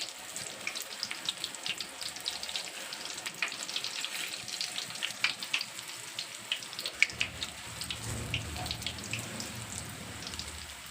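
Onion bajji batter frying in hot oil, a steady crackling sizzle with dense popping bubbles throughout, close and fairly quiet, with no talking.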